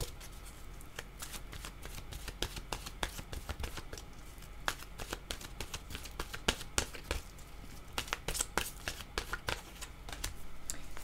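A deck of intuitive-soul oracle cards is shuffled for a tarot-style reading: continuous close riffling and flicking with quick irregular snaps for about eleven seconds, and no voice over it.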